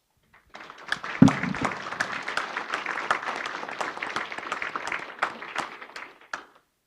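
Lecture audience giving a round of applause in a remembrance tribute, a steady spread of clapping that swells near the start and carries on evenly for several seconds before stopping.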